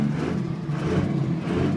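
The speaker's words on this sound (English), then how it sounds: "I'm gonna roll the window down so you can hear this truck" A Cummins diesel in a 6-speed Dodge truck runs with a steady, low engine rumble heard from inside the cab, no voices over it.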